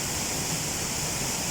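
The largest waterfall along a walking trail in the Brecon Beacons, where a path leads behind the falling water, roars as a steady, dense, close rush of water with no let-up.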